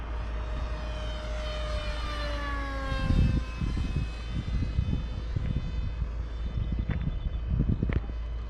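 A small electric RC model F-18 jet whines overhead with a rising and falling pitch as it passes, a steady airborne hum with wind buffeting, a few dull knocks and thumps.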